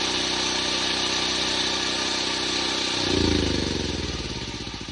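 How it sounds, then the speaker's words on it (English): Portable generator engine turning over and catching on a pull-start with the choke, a steady mechanical drone that surges into a louder running roar partway through, close by. "pull this out until you can't anymore, and give it a chug, and you're gonna push in that choke"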